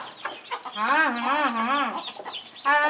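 Household chickens cluck and call loudly at close range, with wavering drawn-out notes followed by a short, sharper call.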